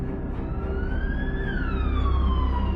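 An ambulance siren wails loudly and steadily on its way to a city hospital, its tone sweeping up and then gliding back down over a dense rumble of traffic, with no voices.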